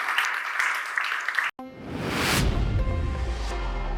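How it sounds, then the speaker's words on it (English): Applause from a tech conference audience at ContainerDays Hamburg after a talk, following a sharp cut, clapping swelling into a dense, steady wash that carries on to the end. "please again clap your hands together for Thore"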